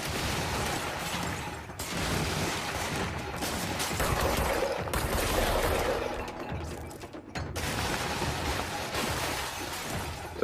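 Sustained gunfire and shattering impacts fill combat in the video game Control, a dense, continuous barrage with brief dropouts between volleys.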